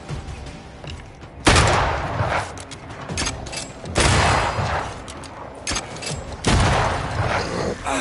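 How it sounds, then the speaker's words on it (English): Gunfire from a corpse enemy in the video game Banishers: Ghosts of New Eden: three or four loud, broad blasts spaced a couple of seconds apart, each ringing out with a rumbling tail and mechanical clatter between them. "That corpse is gonna shoot!"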